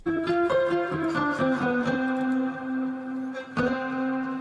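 A music mix with sustained tonal notes washed in sidechained reverb, the echoing tail swelling and ducking between louder plucked guitar hits.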